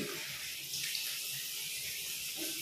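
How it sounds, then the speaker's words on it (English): Water running from a tap while feet are being washed, a soft steady hiss of flowing water with faint splashing, quiet and close, no voices. "So we will wash our feet."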